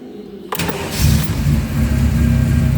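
A 1988 Ferrari Mondial 3.2 coupe engine cranks and catches at once, then settles into a deep, rumbling idle close by, with no voices.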